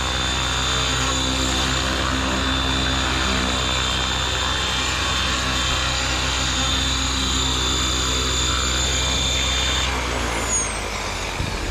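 A Horizon Hobby Blade Fusion 550 Quick Build Kit RC helicopter on its first hover in a neighborhood, a loud steady whine and rotor drone that holds continuously and shifts slightly near the end.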